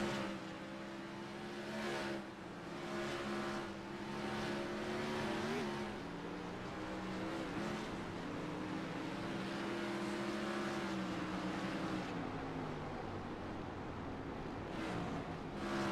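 Pavement sprint race car engines in iRacing, a sustained loud roar with pitch climbing and dropping through gear changes and corners, no voices.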